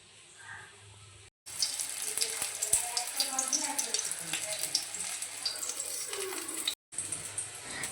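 Green chillies and black cumin sizzle in hot mustard oil in a kadai, a loud crackling fry that starts abruptly after a quiet moment and pops steadily before cutting off briefly near the end.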